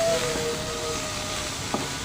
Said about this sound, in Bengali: তো এখানে নিয়ে নিলাম আমি কিছু চিংড়ি মাছগুলো ভেজে নেব